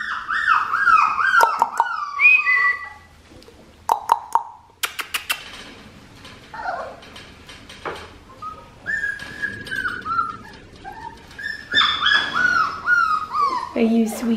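A red merle female puppy's high, thin whimpers and whines come in short bursts, mixed with soft cooing speech nearby and a few sharp clicks.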